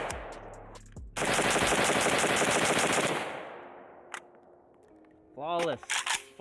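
A Pioneer Arms 556 sporter underfolder AK rifle fires a loud, rapid string of shots that rings out for about two seconds and fades into echo, followed by a few scattered metallic clacks.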